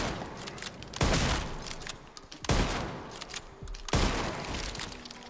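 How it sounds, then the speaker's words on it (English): Gunfire in the survival horror game Resident Evil 9 Requiem, three heavy impact-like blasts spaced about a second and a half apart, each with a lingering tail, over steady loud game ambience. "we have rinsed a lot of that machine gun ammo quickly"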